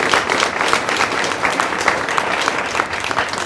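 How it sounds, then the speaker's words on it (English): Town hall audience gives a round of applause, a loud continuous wash of many hands clapping at once, sustained evenly across the clip without speech. "Can we get those people, all four of them, a big round of applause?"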